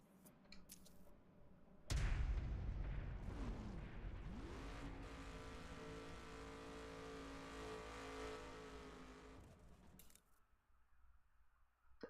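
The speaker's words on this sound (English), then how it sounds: "The engine does sound pretty awesome with this car" A Ford Mustang engine in the racing video game The Crew revs up sharply and holds a loud, steady roar with shifting tones before dropping away near the end.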